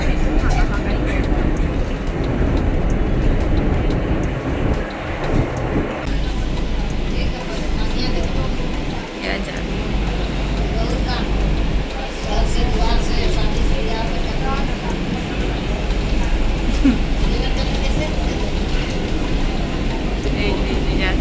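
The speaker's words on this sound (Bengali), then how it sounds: "এই যে অনেক ভাগ দৌড় করে আমরা একদম মেট্রোতে উঠে পড়েছি।" A Kolkata Metro train runs between stations, heard from inside a carriage. A continuous loud rumble and rail roar with rattling persists throughout, and a voice speaks faintly at times.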